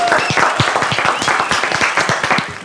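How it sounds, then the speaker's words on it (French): An audience claps steadily for a few seconds, a dense patter of many hands at a fairly even level. "On applaudit"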